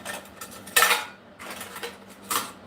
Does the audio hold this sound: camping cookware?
yes